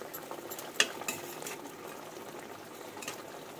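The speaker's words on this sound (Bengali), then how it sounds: "একদম অল্প ফোটানো হয়ে গেছে" Banana flower curry simmers in a pot, a quiet bubbling with a few soft clinks and stirring taps near the start, otherwise low and steady, no voices.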